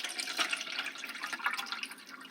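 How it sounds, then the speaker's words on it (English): Water runs into a clear plastic container, a faint, steady splashing and trickling pour that goes on throughout with no speech. "I'm using a clear plastic container so that it's nice and safe for the kiddos. I'm going to fill that with water."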